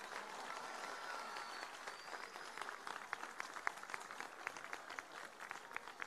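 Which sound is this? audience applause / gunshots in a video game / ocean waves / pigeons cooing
audience applause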